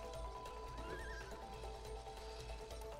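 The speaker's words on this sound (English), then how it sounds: "Horse." A horse neighs in the video game It Takes Two, a clear whinny rising over a low clip-clop of hooves, fairly quiet and alone without talk.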